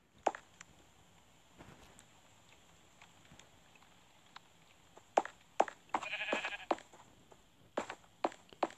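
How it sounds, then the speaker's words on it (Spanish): A sheep bleats several times, faint at first and then in louder, closer calls spaced a second or so apart over a quiet background. "Se escuchan la oveja por ahí"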